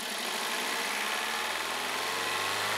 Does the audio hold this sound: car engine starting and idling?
yes